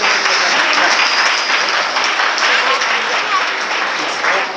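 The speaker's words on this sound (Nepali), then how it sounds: "उहाँहरूको लागि ताली बजाइदिनुहोस्।" A church congregation at a prayer assembly applauds a mission team, a loud, dense and sustained burst of clapping from many people that fills the whole stretch.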